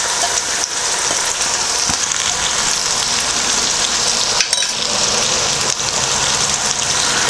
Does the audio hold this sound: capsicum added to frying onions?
yes